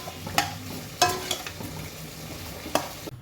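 Ivy gourd and prawns stir-fry in a pan over high heat, a steady sizzle punctuated by a few sharp spatula scrapes and stirs, close and alone.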